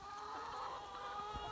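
Farm chickens cluck softly over kitchen scraps spread on the ground, a faint, steady murmur of calls at a little distance.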